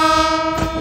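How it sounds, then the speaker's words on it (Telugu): A blaring train horn sounding on a main line near Guntur, one loud sustained chord heard close by under the rumble of a moving train. "బాబా అదిరిపోయింది అబ్బా హార్న్."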